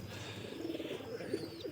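Pigeons coo softly in low, murmuring calls that overlap at close range over a quiet background, with a few faint chirps.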